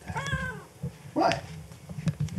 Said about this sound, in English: So this cat has been waiting outside all night for us.